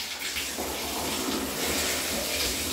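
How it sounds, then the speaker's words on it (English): Water running into a bathtub as it is rinsed during cleaning, a close, continuous splashing rush with no pauses for a few seconds. "Then we start with the rinsing."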